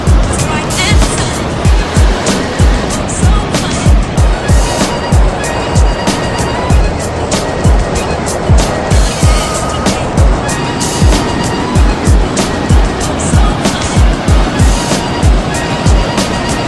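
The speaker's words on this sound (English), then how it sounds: "Honestly say I've never stood this close to the edge of a waterfall before." A waterfall in Jasper National Park rushes with a loud, continuous broadband roar heard from very near the edge, with regular low thumps running through it.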